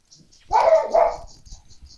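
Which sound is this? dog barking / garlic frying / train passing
dog barking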